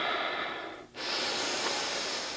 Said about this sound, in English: Breathing nice and deep.